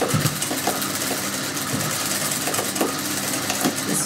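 A sewing machine runs steadily and continuously, stitching heavy fabric studded with small stones for a beaded suit, with a dense mechanical drone and faint tapping throughout and no talk.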